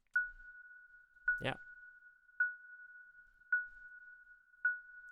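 Synthesized sine-tone blips from SuperCollider, five short evenly spaced pings at a steady pitch, each trailing off into a soft reverb tail; a voice briefly says one word over the second blip.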